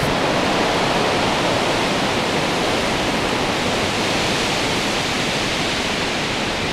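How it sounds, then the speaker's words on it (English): Steady broadband rush of a stream and waterfall at Bridal Veil Falls along the Coppermine Trail in New Hampshire on a gusty day, continuous and fairly loud with no voices. "you can see right there that flowing water"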